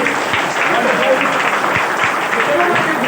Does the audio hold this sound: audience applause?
yes